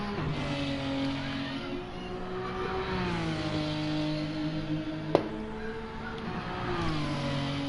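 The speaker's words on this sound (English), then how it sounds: "oh, look at that fantastic drift" Engine of a car drifting in a racing video game, a steady droning note sliding up and down in pitch as the revs shift, with a sharp click near the end, continuous and moderately loud.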